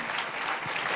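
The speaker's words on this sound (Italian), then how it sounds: "facciamo un applauso anche a" Audience applause at an Italian orientation event presenting technical institutes, a steady wash of clapping from a seated crowd, close and full throughout the brief moment.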